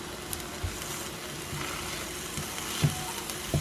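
Turkey burgers and Canadian bacon sizzling in a pan, a steady faint frying hiss with a few small pops and clicks, no voices.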